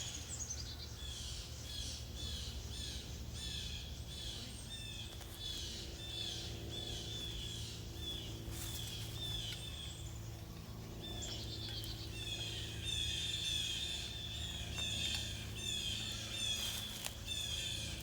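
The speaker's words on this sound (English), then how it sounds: "Did y'all hear the birds?" Birds chirp and call outdoors in overlapping high tweets, continuous and moderately loud over a low background rumble.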